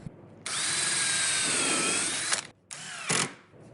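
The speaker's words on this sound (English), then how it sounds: "And now reinforce it with some screws." A power drill whines loudly for about two seconds as it drives a screw into wood, stops, then gives a second shorter burst, close and alone with no talking.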